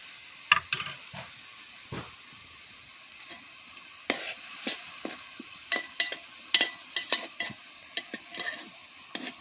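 Nutmeg rind pickle cooking in a pan as its water boils off, with repeated scraping stirs and clinks of a spoon against the pan over a soft, low sizzle, close and without talk.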